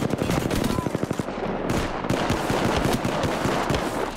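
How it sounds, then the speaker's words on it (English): Rapid gunfire from enemies in the video game Arena Frags, dense bursts of automatic fire and rattling shots packed together, loud and close, with a voice faintly present underneath. "The enemies are shooting at me."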